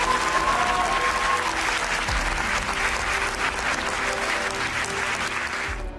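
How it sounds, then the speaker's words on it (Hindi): Dense, sustained applause from a large audience at a speech, loud and even clapping across the whole stretch before tapering at the end. "नाम लेते ही पहली पंक्ति से अंतिम पंक्ति तक उसके सम्मान में तालियां बजेंगी"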